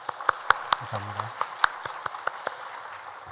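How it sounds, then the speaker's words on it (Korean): A church congregation applauds the choir, giving light, fairly sparse hand claps at an even pace while someone briefly speaks over them. "또 아름다운 찬양 들려주신 우리 할렐루야 찬양대에도 우리 감사의 박수 한번 올려드리면 좋겠습니다"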